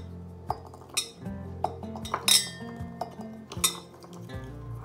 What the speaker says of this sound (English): Okay, so now we have our sterilized jars, six of them.